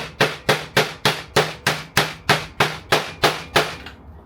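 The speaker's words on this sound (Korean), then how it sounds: "망치로 이것도 우레탄 망치로 톡톡톡톡" A urethane hammer taps a bearing onto the rotor of a high-speed cut-off saw during repair: about twelve evenly spaced, crisp knocks at a steady rhythm, close and loud, with no talking.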